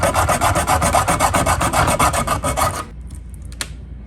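A disconnected ski edge being cut away, heard as a fast rhythmic rasping, close and loud, in about twenty quick strokes that stop abruptly, followed by a few faint clicks.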